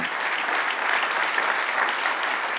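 Church congregation applauding during a Spanish-language sermon, a dense, even wash of many hands clapping that holds steady and moderately loud throughout with no talking over it.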